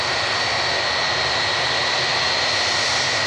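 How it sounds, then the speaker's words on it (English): Four Rolls-Royce RB211 jet engines on a large airliner give a steady, loud broadband roar with a constant whine on top, continuous and unbroken throughout, with no voices. "4 RB211s just rumbling along."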